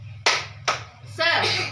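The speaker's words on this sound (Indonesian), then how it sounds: "tepuk semangat" A teacher leads a rhythmic cheer clap for schoolchildren in a classroom, with a few sharp claps near and loud, then a voice chanting, all over a steady low hum.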